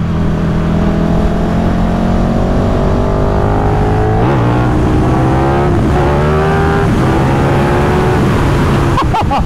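A 2024 KTM 1390 Super Duke R EVO motorcycle engine roars continuously at high revs on a race track, pitch climbing and dropping through gear changes, loud and close with no pauses.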